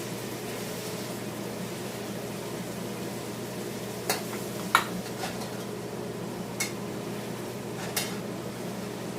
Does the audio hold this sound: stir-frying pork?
yes